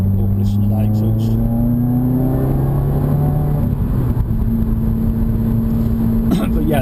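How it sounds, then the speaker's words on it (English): Exhaust note of a 2016 Subaru WRX with a Nameless axle-back exhaust, a loud, steady droning rumble heard from inside the car, with the pitch easing as it runs. "Oh, listen to that exhaust."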